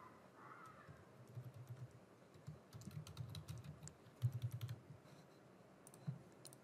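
Test card details are typed on a computer keyboard, giving soft, quiet bursts of rapid key clicks across several seconds, with no talking.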